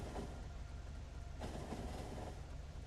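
A train in the factory-building game Factorio rolls along steadily, a continuous low rumble with faint rhythmic wheel clatter, quiet and unbroken with no talk over it.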